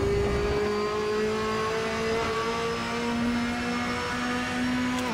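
Ferrari race car in Assetto Corsa, a steady high engine drone with sustained tonal harmonics holding under load and shifting pitch slightly as it powers through a chicane, loud and continuous with no talk.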